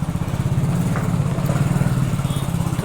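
A motorcycle idles close by at a market as it is pulled aside to park, a steady low, pulsing engine thrum with faint market sounds behind it.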